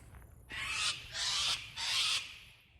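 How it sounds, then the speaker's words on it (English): Three harsh, raspy bird screeches in a row, loud and grating, like cockatoos calling nearby with no talk. "The old cockatoos are behind me, flying around."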